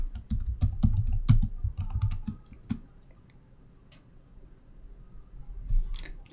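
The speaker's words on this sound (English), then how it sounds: "So I will type in my name and then I will give it a rating." Someone types a quick burst of keystrokes on a computer keyboard, close and clear, then pauses into near silence before a few more light taps at the end.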